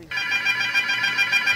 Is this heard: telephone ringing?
yes